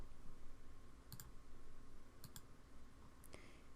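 A few faint, crisp computer mouse clicks, single or in quick pairs, sound over a steady quiet hum while measurements are selected in FARO Sphere XG software.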